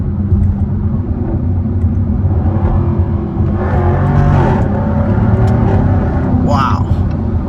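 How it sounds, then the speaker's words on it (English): Jaguar F-Type P450 AWD exhaust droning steadily under road rumble while driving, with a rising rev toward the end; a voice talks over it. "that exhaust sounds absolutely incredible"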